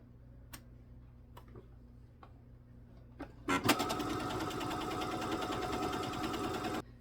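Faint ticks and clicks come first. Then a sewing machine starts up, quilting lines around the edges of a fabric Kindle sleeve, and runs at a fast, even whir for about three seconds before stopping abruptly.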